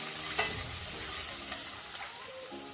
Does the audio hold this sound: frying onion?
yes